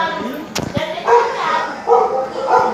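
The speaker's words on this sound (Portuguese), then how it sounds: "Aí tem um cachorro aqui latindo." A dog barks a few times nearby at a friend's house overlooking a scenic view, short yips and bow-wows mixed with someone talking, with a brief knock or slam early on.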